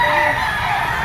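A Kelso gamecock at a busy Lipa chicken market crows loudly and close, with a sustained, strained call over a dense din of other fowl and crowd noise.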